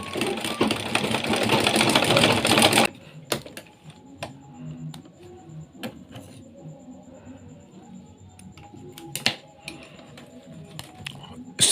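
A sewing machine stitches fabric pleats in a loud, steady whir for about three seconds, then stops, leaving quiet handling clicks and light rustling of the pleated cloth.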